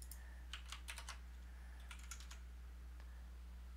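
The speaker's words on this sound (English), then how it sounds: "Actually, let me type it." Keystrokes tap on a Kinesis ergonomic keyboard with a Dvorak layout in two quick, quiet clusters of clicks, close and alone over a low steady hum.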